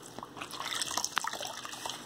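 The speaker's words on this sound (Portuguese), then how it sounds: "Então eu vou molhar a esponja aqui." Water drips and trickles onto a dry kitchen sponge as it is wetted, soft close liquid patter over about two seconds with no voices.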